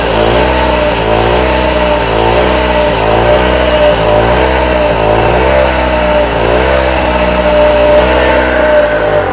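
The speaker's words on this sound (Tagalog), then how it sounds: "Gumana na guys yung generator." Cheap gasoline generator set running steadily nearby, a loud continuous engine drone with a slight wavering pulse in its pitch and no pauses.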